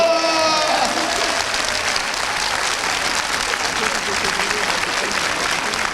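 A television studio audience claps loudly and steadily on cue, a thick wash of many hands with a brief tonal sound at the start fading out under it, and a voice speaking over the applause.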